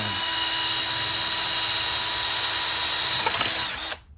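A power drill whines steadily at high speed for several seconds as it drills through metal roofing pan material, then winds down and stops abruptly.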